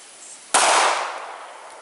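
A single sharp gunshot fired outdoors in open countryside, loud and close, cracking out after a quiet stretch and then fading away slowly.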